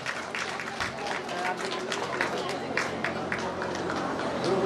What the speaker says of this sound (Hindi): अगला नाम बहन तालियां क्लैपिंग करने में मत चूकिए आप लोग।